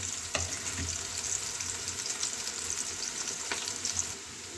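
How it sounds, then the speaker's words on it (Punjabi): Onions browning in a pan for an aloo, carrot and pea sabzi: a steady, loud, close sizzle of frying runs throughout, with a couple of faint stirring clicks and no speech, easing slightly near the end. "ਹੁਣ ਅਸੀਂ ਸਭ ਤੋਂ ਪਹਿਲਾਂ ਆਪਣੇ ਪਿਆਜ਼ ਚੰਗੀ ਤਰ੍ਹਾਂ ਲਾਲ ਕਰ ਲੈਣੇ ਆ"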